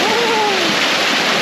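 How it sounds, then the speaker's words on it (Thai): A forest waterfall at Tat falls in rural northern Laos, heard as a steady, loud wash of splashing water filling the whole clip, with a faint whistle-like tone briefly riding over it near the start. "น้ำตกตาดสวยงาม"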